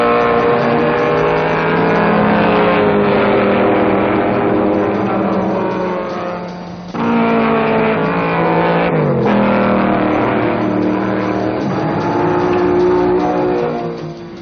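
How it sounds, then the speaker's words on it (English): Sports racing cars, including a Ford Cortina and Cobras, roar loudly around the Sebring circuit during an endurance race, engines sustained with shifting pitch and a brief dip as cars pass by. "car 59 takes number 1 turn in the outfield and leads Dan Gurney in Cobra 11 and Bob Holbert, number 10, into the S's."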